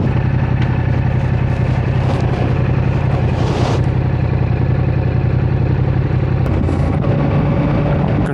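A Yamaha MT motorcycle ridden on a road in Germany gives a loud, continuous engine drone with steady low rumble and wind rush, shifting slightly in tone near the middle and end, with no voices.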